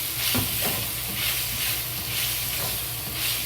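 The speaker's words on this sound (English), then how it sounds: "And fry it." Pork slices fry in a hot wok with a teaspoon of sweet bean paste and chili sauce, giving a steady close sizzle with soft stirring scrapes and no voices.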